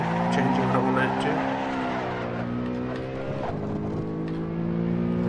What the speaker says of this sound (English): I know that they use this car for drifting, but it likes doing it a lot.